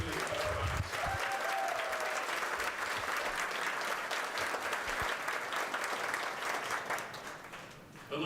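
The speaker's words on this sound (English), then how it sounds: "let's give a round of applause specifically." Sustained audience applause and clapping at an Arizona state bill signing by the governor, a dense, steady crowd of hands filling the room for several seconds before tapering slightly at the end.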